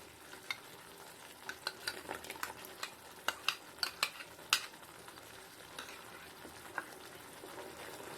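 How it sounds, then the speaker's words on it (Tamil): Halwa of milk, sugar and ghee being stirred in a pan as the remaining ghee goes in, with soft sizzling and frying under a run of sharp spoon scrapes and clicks against the pan, close and moderately loud. "இப்போ மிச்சம் இருக்கிற நெய்யெல்லாம் ஊற்றிக்கலாம்."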